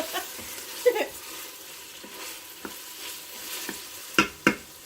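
Meat sautéing in an Instant Pot for red beans and rice, giving a soft steady sizzle broken by a few sharp scrapes and clinks of stirring, close by and with no voices.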